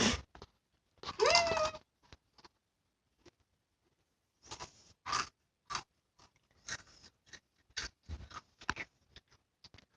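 Close, crisp crunching bites of a sweet crunchy potato snack come in irregular bursts with quiet gaps between, after a brief short vocal sound near the beginning.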